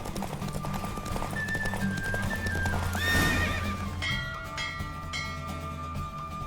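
Hooves clip-clop in a quick galloping rhythm, close by, with a horse whinnying partway through and a soft music bed underneath, from a horse in the video game The Witcher 3: Wild Hunt.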